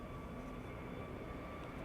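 A steady, faint drone of an airplane at Schiphol Airport, heard at a distance as a continuous, even rumble with no talk over it.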